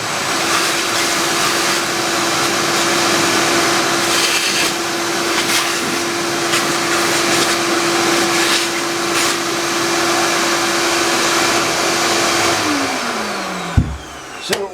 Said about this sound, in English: turn that off, vacuum up the chips